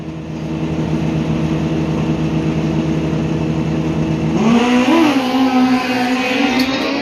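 Two Kawasaki drag-race motorcycles roar from the line at a drag strip, a loud sustained engine drone that rises into a climbing whine as they accelerate away.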